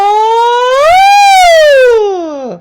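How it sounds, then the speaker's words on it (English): A singer glides upward from chest voice into head voice on a single sustained tone, rising smoothly then easing back down before trailing off; loud, close and unaccompanied. "if I were to do chromatic ascension from my chest voice to my head voice"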